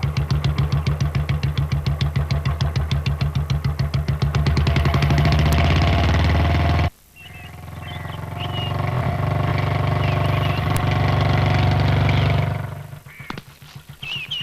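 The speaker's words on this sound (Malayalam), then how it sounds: "അവിടെ ബൈക്ക് സ്റ്റാർട്ട് ചെയ്ത ശബ്ദമാ" A motorcycle engine revs with rapid, regular firing pulses, cuts off abruptly, then restarts and settles into a steady idle before fading, fairly close and with no talk over it.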